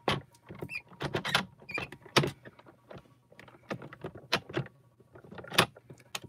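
Gemini hot foil press machine running with a small wiggling motion, giving off a series of irregular light clicks, rattles and mechanical taps, close by and fairly quiet, with no voices.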